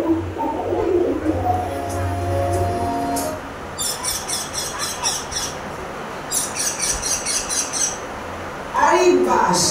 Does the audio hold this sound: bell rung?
no